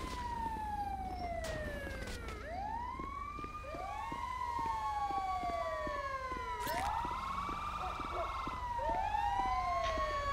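Wailing emergency siren from a fire truck in the video game GTA V, responding code 3, sweeping up and down in repeated loud cycles that dominate the scene over a steady low engine and road rumble.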